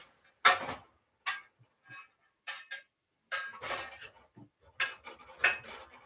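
Stainless steel pans and utensils clatter in a home kitchen while French toast cooks, giving scattered metallic clinks and knocks in irregular bursts, some sharp and close, with quiet gaps between.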